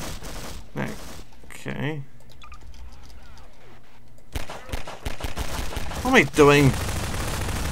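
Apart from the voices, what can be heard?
gunfire in video game Garry's-Life Source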